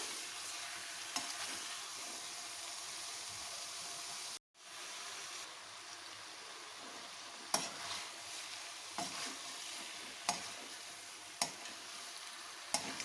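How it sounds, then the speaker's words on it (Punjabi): Tinda (apple gourd) fries in a hot tempering of oil and spices, a quiet, steady sizzle broken by a brief pause and punctuated by sharp, regular clinks of the spoon stirring against the pan. "1 ਮਿੰਟ ਲਈ ਚੰਗੀ ਤਰ੍ਹਾਂ ਟਿੰਡਿਆਂ ਨੂੰ ਤੜਕੇ ਚ ਪਾਉਂਦੇ ਰਵਾਂਗੇ"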